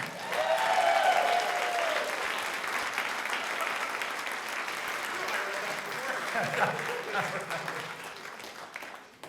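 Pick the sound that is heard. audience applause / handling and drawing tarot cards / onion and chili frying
audience applause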